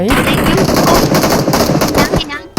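Rapid gunfire from the mobile battle royale game PUBG Mobile, loud repeated shots in quick bursts filling the moment, with voices talking excitedly over the shooting.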